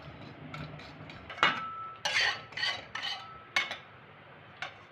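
Cashews stirred and lightly fried in a kadai, giving a series of distinct scraping and clinking strokes of a spoon against the metal pan, close and fairly quiet.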